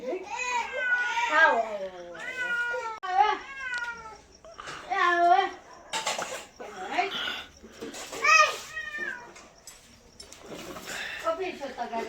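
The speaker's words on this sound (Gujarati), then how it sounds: "બિલાડી ફરે છે નીચે" Repeated drawn-out meows from a nearby cat, one after another, with children's voices mixed in at times.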